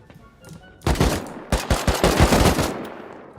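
Close automatic gunfire in the survival game Rust, with rapid volleys of loud shots in bursts that continue for a couple of seconds before fading.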